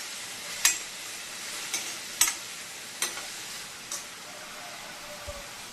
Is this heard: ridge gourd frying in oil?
yes